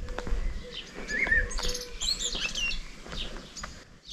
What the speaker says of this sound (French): J'entends un merle.